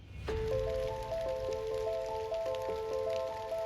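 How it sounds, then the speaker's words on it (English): Rain patters steadily through the timber around a Missouri whitetail bowhunting stand, a soft continuous wash of drops with occasional louder drips, faint and unaccompanied by voices. "hopefully we can catch some bucks cruising once this rain breaks"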